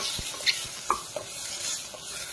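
Flat beans fry in a pan with onions and tomato, giving a soft, steady sizzle broken by a few light clinks and stirring scrapes, with no talk.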